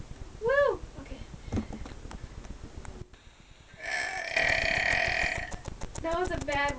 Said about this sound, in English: Auburne burps like a man.